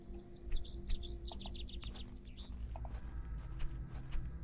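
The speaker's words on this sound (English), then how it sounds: "Another bird. Only this one I think is a sparrow." A sparrow chirping in an adventure video game: rapid, bright, high chirps in quick clusters during the first half, then a few sparse calls, set against a steady low ambient hum with no talking.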